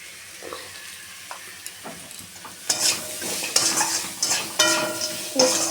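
Crabs fry and sizzle in a pan with ground coriander and other spices. A steady sizzle runs throughout, and from about the third second it turns louder and busier, with stirring scrapes and clinks over the top. No one speaks.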